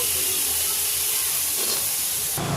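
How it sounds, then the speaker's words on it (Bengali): Loud, steady hissing sizzle as urad lentils are poured into hot oil with fried ginger, continuing throughout with a brief shift near the end. "এবার আমি ডালটা ঢেলে দেবো।"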